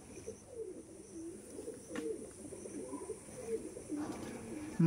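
Pigeons coo softly and repeatedly at close range in a rural village loft, low murmuring calls running steadily with faint background noise.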